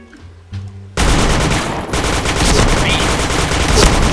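Rapid automatic gunfire in the online shooter Point Blank rattles loudly and continuously after a brief quiet start, sounding as sustained bursts close by.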